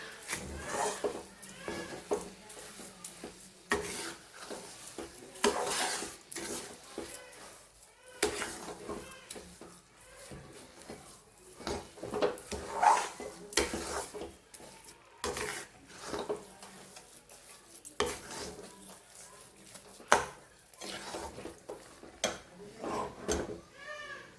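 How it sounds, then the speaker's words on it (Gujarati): Sugar and ghee being roasted in a pan for sheera, with intermittent scraping and stirring strokes of a spoon against the pan and soft sizzling, close and fairly quiet, with occasional faint voices. "ખાંડ બળી ના જાય ત્યાં સુધી, એક રસ ના થઈ જાય અને કલર થોડો એનો ચેન્જ થઈ જાય અને ઘી આપોઆપ છૂટું ના પડે ત્યાં સુધી આપણે એને શેકી લઈશું"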